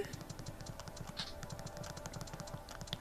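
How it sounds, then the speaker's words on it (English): Fast, quiet typing on a computer keyboard, a steady patter of light key clicks running continuously with no talk. "if I can finish typing this, Vergil."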